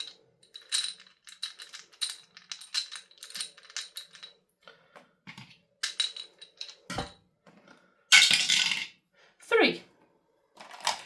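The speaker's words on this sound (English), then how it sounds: "As I get my dice out. Need a 4 slidey dice." Plastic dice rattling and clattering on a tabletop during a cash-stuffing savings challenge, with a few short bursts of shaking and tumbling heard close and loud between stretches of talk.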